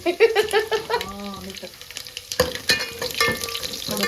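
Garlic hits hot oil with mustard seeds in a home kitchen pan, giving a strong continuous sizzle with stirring scrapes, while someone speaks briefly at the start.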